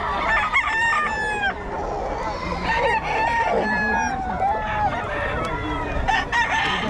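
A Sweater gamecock rooster crows repeatedly at close range, with several drawn-out crows mixed with clucking from other fowl and some background noise.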